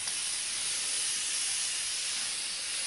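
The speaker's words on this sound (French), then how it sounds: "Donc en ce moment, c'est la brume d'eau de chez Super U" A water mist sprayer hisses steadily and softly as water mist is sprayed onto hair, one continuous spray with no talk.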